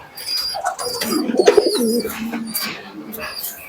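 Imported Pakistani Teddy pigeons coo close by in a loud, rolling sequence of throaty calls, with light rustling and a wing flutter among them.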